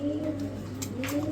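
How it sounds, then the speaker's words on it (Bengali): Fancy pigeons coo while turning in circles, giving a soft, low, throaty rolling call repeated a few times close by over light background noise. "দেখেন ঘুরায় ঘুরে ডাকতেছে ভাই, ঘুরায় ঘুরে ডাকতেছে"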